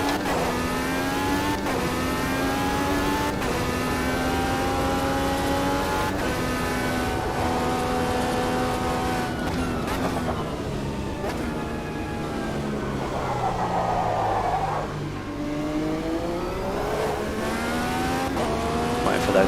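A 2023 Indycar in the Automobilista 2 racing game holds a loud, continuous high-pitched turbo-hybrid engine note, its pitch climbing and dropping through gear changes, with a person talking over it at times.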